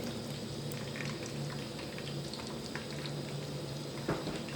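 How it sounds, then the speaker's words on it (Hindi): Coarsely chopped garlic cloves hiss and crackle in well-heated mustard oil, a steady bubbling sizzle with scattered pops and no voices. "सरसों का तेल जो अच्छे से गर्म हो गया, इसमें हमने ये तकरीबन 9 अदद लहसुन के जवे लिए, उनको मोटा मोटा काट लिया, वो डाल देंगे।"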